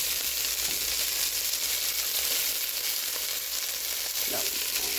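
Beef pieces browning in a pan for braised stew give a loud, dense, continuous sizzle and crackle, with a few faint scrapes of turning the meat and no talking.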